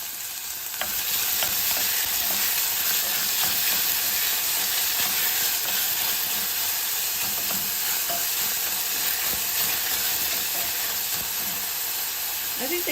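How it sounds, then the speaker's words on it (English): Chopped red pepper, jalapeno and white sweet onion frying in a pan, a continuous loud sizzle and hiss with occasional stirring scrapes and pops, steady from start to finish. "And we will let that fry up for just a moment."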